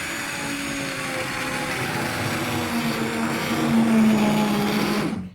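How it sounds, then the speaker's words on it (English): A hand blender blitzes tomato soup in a continuous loud whir with a faint steady whine, running unchanged for about five seconds and then cutting off abruptly. "So let's get the blitzer going."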